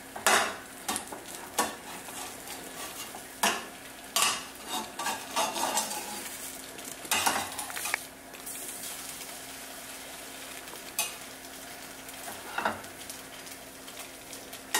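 Food frying in a pan just after being flipped, with a quiet steady sizzle broken by sharp clinks and clatters of utensils against the pan, fairly faint overall.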